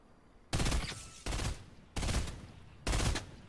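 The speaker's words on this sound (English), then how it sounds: "Someone's shooting at us?" Four loud bursts of Fortnite video game gunfire, each a dense automatic volley lasting about half a second, spaced roughly evenly and heard up close with no talk over them.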